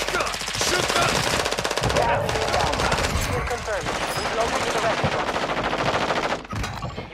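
Rapid automatic gunfire in a Warzone 2.0 match, with loud, dense bursts of shots rattling almost nonstop, a short break near the end, and voices faintly mixed underneath.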